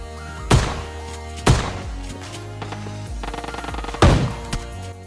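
Shotgun blasts in PUBG Mobile Lite, three heavy booming shots spaced a second or more apart, with a burst of faster rapid fire between them over steady game background noise.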